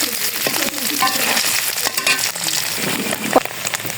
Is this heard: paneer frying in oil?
yes